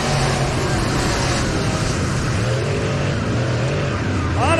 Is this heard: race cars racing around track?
yes